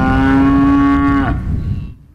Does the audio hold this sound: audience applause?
no